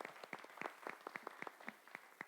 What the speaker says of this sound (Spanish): Vamos a brindarle un aplauso a Carmen.